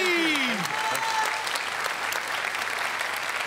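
Loud, steady applause from a studio audience on the Marathi comedy show Chala Hawa Yeu Dya, greeting Riteish Deshmukh; a brief descending whistle-like tone sounds at the start, then dense clapping continues without a break.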